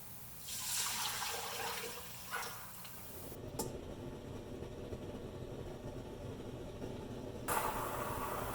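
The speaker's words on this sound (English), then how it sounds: "And then toss in your 7 cups of cool water." Seven cups of cool water pour into an Instant Pot inner container for pork congee, a faint splashing rush that shifts in tone partway and fades near the end.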